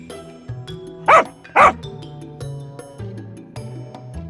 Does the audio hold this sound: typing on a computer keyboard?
no